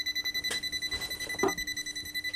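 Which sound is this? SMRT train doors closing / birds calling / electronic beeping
electronic beeping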